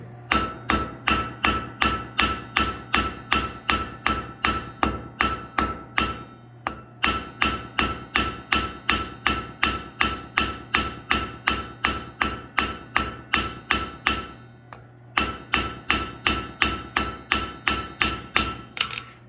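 A blacksmith strikes hot steel with a cross peen hammer in fast, ringing, evenly spaced blows, working in three long bursts with short pauses between them, close and clear with no talking.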